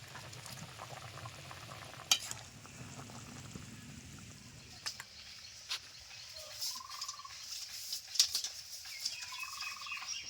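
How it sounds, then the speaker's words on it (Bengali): Prawn curry gravy with vegetable stalks, potato and ridge gourd bubbles steadily in a pan, a close, continuous simmering burble throughout with no voices. "ঝোল টকবক করে ফুটছে"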